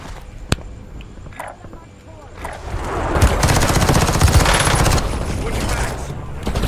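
Rapid automatic fire from a Glock pistol fitted with an X13 auto switch in the Warzone video game, with sharp bursts building into sustained loud rattling, while a voice talks over parts of it.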